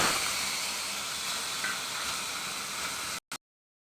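Steady, loud sizzling hiss of asafoetida tempering hitting hot oil, running unbroken for about three seconds before cutting off abruptly, followed by one short burst.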